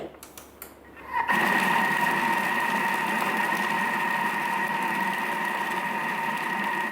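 A loud, steady mechanical whirring starts after a second of quieter rustling and runs on evenly as a Thermomix shreds corned beef in reverse at speed 4.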